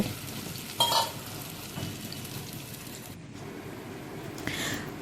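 Tomato slices fry in a pan, giving a steady close sizzle with a few brief louder crackles and spatters and light handling sounds, with no voices.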